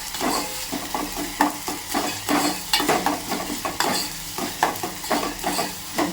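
Onion sautéing in oil with ginger-garlic-chilli paste, a close sizzle punctuated by frequent rhythmic scrapes and clinks of the spoon against the pan.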